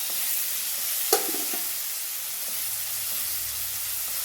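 Onions, ginger and garlic sautéing in a pan for a chickpea kurma, giving a steady soft sizzle with a single sharp clack of a utensil early on and faint stirring scrapes.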